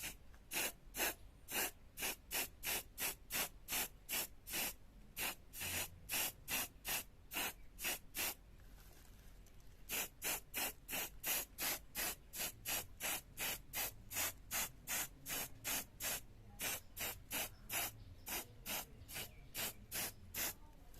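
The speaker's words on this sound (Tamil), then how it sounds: "அதுக்கப்புறம் இது ஃபுல்லாக ஸ்ப்ரே பண்ணி எடுத்துக்கலாம்." Short, evenly spaced hissing bursts from a spray paint can, dozens in a steady rhythm with one brief pause, close and fairly quiet.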